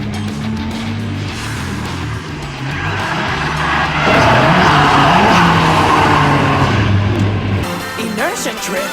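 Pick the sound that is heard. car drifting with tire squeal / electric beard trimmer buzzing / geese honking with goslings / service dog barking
car drifting with tire squeal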